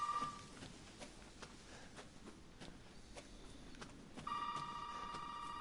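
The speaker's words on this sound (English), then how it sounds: "let's answer this bloody phone" A telephone rings in the Resident Evil Biohazard video game, with a short ring at the start and another near the end, while faint footsteps and soft ambience fill the gap between them.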